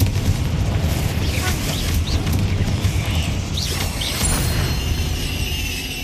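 Confringo blasting spell explosions inside a tomb in the Hogwarts Legacy video game, a loud continuous rumbling roar of blasts and crashing debris that lasts throughout, with no clear speech.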